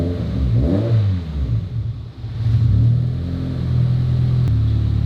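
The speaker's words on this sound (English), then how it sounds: "We're about to find out by giving it a few revs" A Subaru BRZ engine with a cylinder 1 misfire is revved a few times, its pitch rising and falling in short surges before settling into a loud, rough idle close by.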